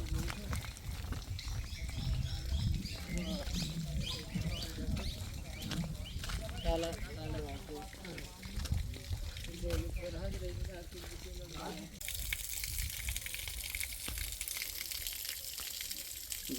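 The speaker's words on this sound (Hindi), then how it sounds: "वो झरना जहाँ का पानी हमेशा 12 महीने ऐसे ही निरंतर निकलता रहता है जंगलों से" A forest waterfall that flows all year pours out of dense jungle as a steady, close, broadband rush, while someone talks over it throughout.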